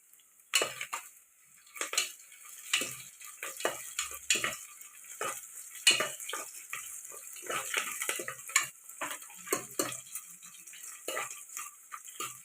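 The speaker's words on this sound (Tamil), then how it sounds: "வெங்காயம் நல்லா வதங்கிடுச்சு இப்போ வந்து நாங்கள் வரமிளகா பச்சை மிளகாலாம் சேர்த்துக்கலாம்" Onions, dried red chilies and green chilies are sautéed in a pan for dal rice, with a continuous sizzle, clinks of a spoon and scraping stirs, and no voices.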